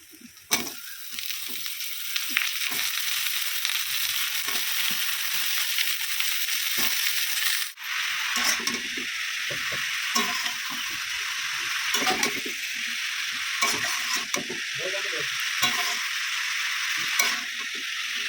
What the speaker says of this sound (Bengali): এবারে মাছের মাথাটা ভালো করে ভেজে নেবো।